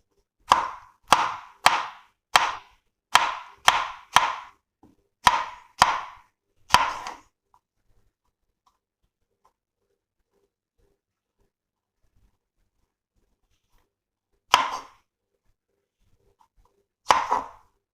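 Snake gourd being cut with a knife on a board, a quick run of about ten crisp chops close up, then silence broken by two more single chops.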